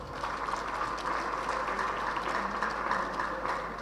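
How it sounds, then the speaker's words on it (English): Audience applause after a leadership talk, a steady dense wash of clapping at moderate level sustained for the whole span without a clear voice over it. "I want you to give yourself a round of applause."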